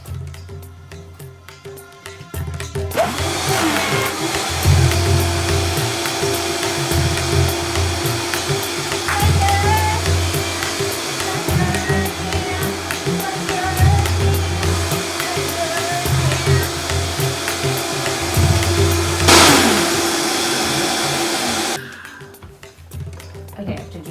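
A blender whirs in a kitchen while almost vegan saag tofu is being made, a loud steady motor drone lasting about twenty seconds before cutting off, with speech over it.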